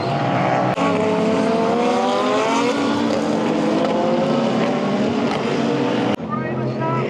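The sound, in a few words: Super GT race cars braking and accelerating at Fuji Speedway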